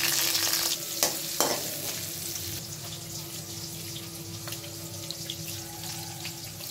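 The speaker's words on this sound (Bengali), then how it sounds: "শুরুতেই রসুন কুচি দিয়ে দিলাম, দিয়ে দিচ্ছি শুকনো মরিচ, পেঁয়াজ কুচি, কাঁচামরিচ কুচি" Chopped garlic, dried chili, onion and green chili fry in hot oil, a steady moderate sizzle with a couple of sharp clatters early on and a faint constant hum beneath.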